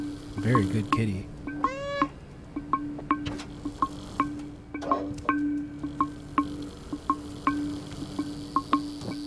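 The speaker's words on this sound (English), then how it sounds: "The cat sounds are just fucking great." A cat in a video game lets out a clear meow early on, followed by a steady run of sharp, regular game ticks and soft ambient noise.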